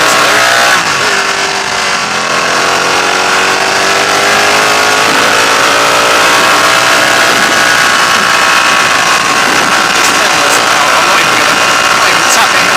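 Ducati Panigale 1299 S motorcycle ridden on a bumpy road, a loud steady engine drone with gradually rising revs, wind and engine noise constant under a rider's voice.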